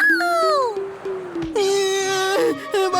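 A cartoon cat lets out long, wailing meows, loud and close, one drawn-out cry sliding down followed by a shorter, brighter meow and a final brief call.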